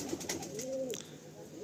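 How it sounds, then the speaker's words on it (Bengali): A small short-bodied pigeon gives a single soft, close coo against a quiet room background. "একদম শর্ট সাইজ পায়রা"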